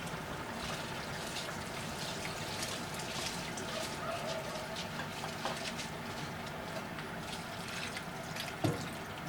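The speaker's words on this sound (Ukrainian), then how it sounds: "воду бажано отак заливати вже по, по краю." Water poured steadily around the edge of a pot of Asian plov with rice, a faint, continuous trickling and splashing with a small knock near the end.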